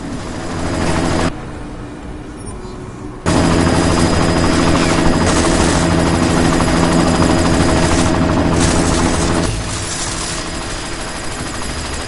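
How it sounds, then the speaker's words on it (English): A helicopter in Deus Ex: Mankind Divided roars with a loud, steady rotor and engine drone, briefly dropping away before surging back close and dense, with sharp gunfire bursts mixed in. "You've got to stop that chopper"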